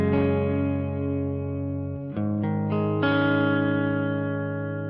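Fender Telecaster neck pickup played through a 1965 Fender Pro Reverb amplifier, sustained ringing chords with warm clean tone, a change of chord around the middle and fresh strums after, loud and close with no talking.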